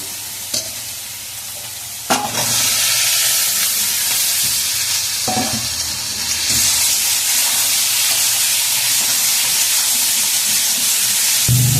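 Potatoes tipped into a hot pan already coated with turmeric for a Bengali fish curry, erupting into a loud, steady sizzle with a few sharp clatters of stirring near the start and no talking.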